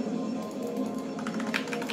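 Rapid keystrokes on a computer keyboard during a game, a quick patter of light clicks under a steady low hum of game sound.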